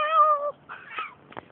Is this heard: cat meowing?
yes